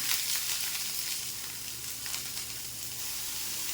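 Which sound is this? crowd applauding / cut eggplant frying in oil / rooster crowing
cut eggplant frying in oil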